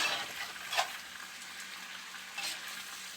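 Kidney pieces for a steak and kidney pie sizzle steadily in a pan, a soft continuous frying hiss with a couple of brief stirring scrapes, no talking.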